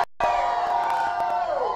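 A church congregation lets out a sustained collective scream during a sermon, starting abruptly after a brief silence and holding loud and steady, with sharp bursts of clapping or shouts punctuating it.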